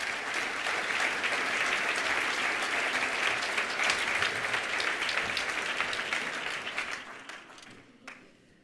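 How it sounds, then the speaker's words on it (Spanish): Sustained audience applause for a speaker at a cultural presentation, a dense steady clapping that holds loud for about seven seconds, then thins out and fades, ending with a few scattered claps. "les ruego un fuerte aplauso para ella"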